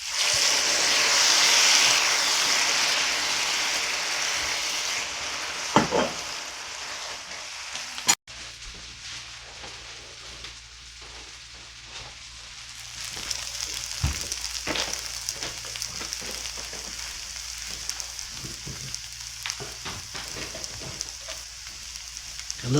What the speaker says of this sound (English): We deglaze with some red wine